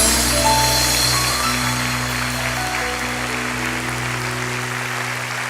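Applause in a church congregation rises as a steady wash of clapping under a constant sustained musical hum, holding evenly for several seconds before thinning slightly.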